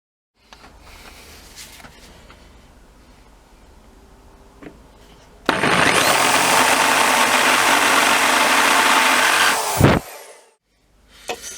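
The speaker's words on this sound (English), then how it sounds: "I think what I might do is put a little chamfer on those edges as well, just to help them locate." A power drill fitted with a countersink bit chamfers the edges of holes in a Honda CB1300 S motorcycle handlebar, a steady loud whir lasting about four seconds after a quieter stretch of faint handling noises, then stopping abruptly.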